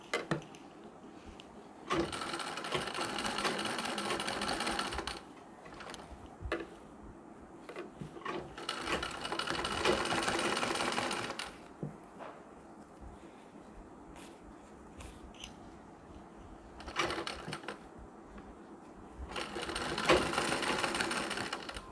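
Sewing machine stitching a nauvari saree where a zipper is being fitted, running in several loud bursts of a few seconds each, separated by quieter handling and rustling.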